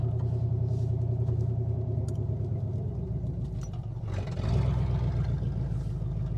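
A 1967 Chevrolet Caprice, left sunk in dirt for over 30 years and without working brakes, rumbles with a steady, deep, close engine drone that swells slightly near the end.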